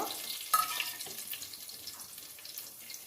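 Dried red chilies hitting hot oil in a pan while cooking stuffed brinjal curry: a sudden loud sizzle as they drop in, settling into a steady, crackling fry.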